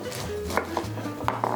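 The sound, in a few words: knife cutting tough skin off a pineapple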